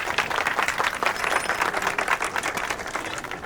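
A crowd clapping in a Hindi comedy film scene, dense and continuous rapid applause from many hands at fairly close range, holding steady throughout.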